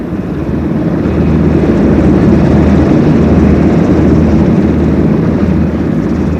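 Sikorsky heavy transport helicopter with two large turboshaft engines flying, a loud steady rotor and engine roar with low throbbing, constant and close throughout.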